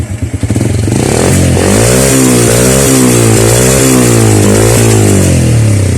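A Honda Wave 100 motorcycle that is slowly starting to emit white smoke and lose oil runs loud and close, its engine note rising and falling through repeated revs with no talk over it.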